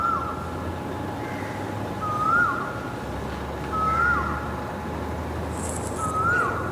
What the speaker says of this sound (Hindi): कोयल की आवाज़ आपको सुनाई दे रही है?